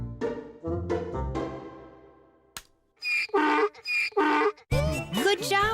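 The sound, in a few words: donkey braying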